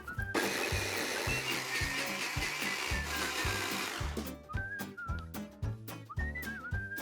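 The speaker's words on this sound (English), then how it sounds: "You can add more if you want to make it a looser puree for your baby if they're just starting to wean, and then just blitz it up" A blender blitzes beef, apple and sage into a baby puree, giving a loud, dense whirring roar for about four seconds over a background music track, which then carries on alone after the motor stops.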